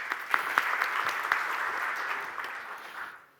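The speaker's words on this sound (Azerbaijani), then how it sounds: "Alqışlayırıq Enar bəyi." An audience at a business forum applauds a presenter taking the stage, steady close crowd clapping with a few sharp individual claps standing out, fading away over about three seconds.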